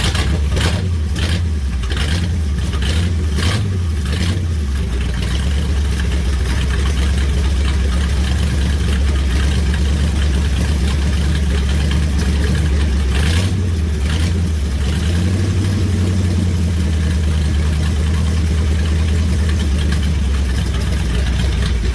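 A big block Mopar V8 in a red, rusty Plymouth Polara 500 four-speed idles loud and close with a lumpy, uneven rhythm, revving in short bursts near the start and again midway.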